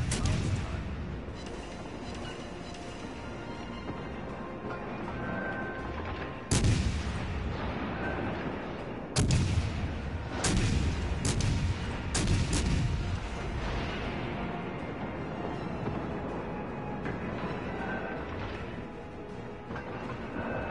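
Warship guns of the cruiser Nino Bixio boom in World of Warships on PS4, several sharp heavy blasts over a steady rumbling sea-and-engine bed, with someone talking over the action.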